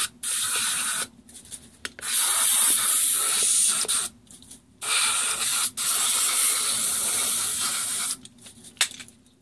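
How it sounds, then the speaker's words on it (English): Silicone spray shot into an RV door latch and lockset, several loud hissing bursts of a few seconds each, separated by short pauses, close to the mic. "I'm going to use a spray, silicone spray, just to coat everything all inside there"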